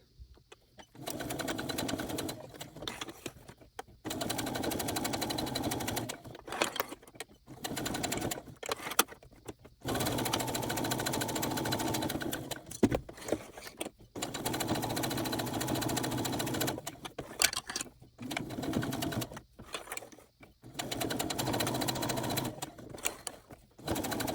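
A sewing machine stitching around the points of a Christmas tree ornament runs in short bursts of steady mechanical whirring, broken by frequent brief pauses where the needle stops and the fabric is turned, close and clear.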